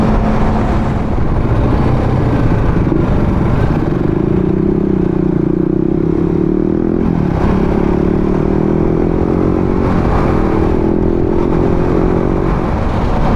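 A motorcycle cruising along a road with steady loud engine drone and heavy wind rush, a slight rise in engine pitch midway, no talk.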